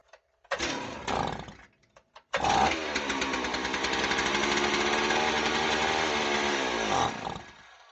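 A Stihl 038AV chainsaw with a fuel-line and carburetor fault is pull-started: two short sputtering bursts, then the engine catches and runs loud and close for about five seconds before cutting off.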